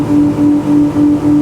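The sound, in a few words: motorboat engine at wide open throttle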